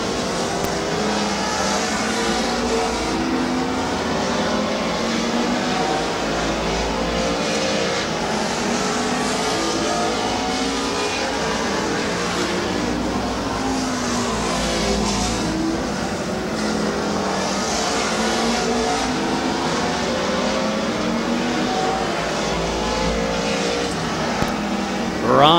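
Race cars at Midvale Speedway roar around the oval in a late-race battle, a loud continuous engine drone with rising and falling passes throughout, near and steady, with faint commentary underneath.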